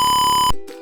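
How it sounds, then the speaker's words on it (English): A piezo buzzer in an Arduino gas alarm setup sounds a steady, loud electronic tone that cuts off abruptly, leaving a quieter, different tone afterward. "you can hear the buzzing sound of the buzzer"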